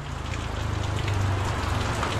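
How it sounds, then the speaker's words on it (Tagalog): Heavy rain pours steadily and loudly throughout, a dense continuous hiss of drops hitting surfaces with no talk over it. "Grabe yung ulan, no?"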